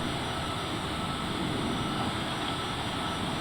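A Cessna CJ4 business jet climbs out after takeoff from Prescott, heard as a steady, loud cabin roar of engine and airflow with no break and no speech.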